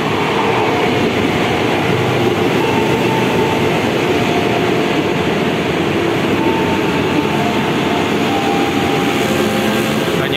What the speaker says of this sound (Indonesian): Dari arah selatan masuk komuter lain tujuan Jakarta Kota,